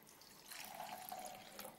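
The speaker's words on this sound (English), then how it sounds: "We'll be pouring some liquid into the glass." Liquid pours into a glass as part of an Arduino ultrasonic water-level demonstration, a faint, thin trickling stream lasting under two seconds with no talk over it.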